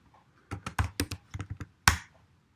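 A git command is typed on a computer keyboard: about a dozen quick, uneven keystrokes close by, ending in one louder, sharper key press, with no talking.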